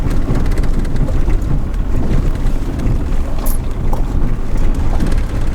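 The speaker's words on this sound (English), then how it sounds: "Ooh, very windy." Strong wind gusting across a lakeside road at an RV resort, loud rumbling buffeting on the microphone that continues without a break.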